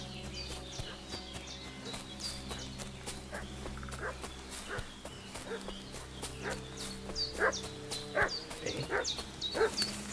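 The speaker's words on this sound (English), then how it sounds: "What's that dog making such a fuss about?" A dog barks repeatedly in Kingdom Come: Deliverance II, sharp yaps scattered through a busy rural soundscape with steady horse hoof clip-clops and low ambient hum throughout.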